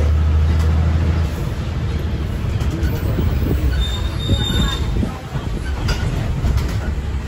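A passenger train pulls into a station, its wheels squealing shrilly and steadily throughout, with a low rumble underneath and loud, close platform noise.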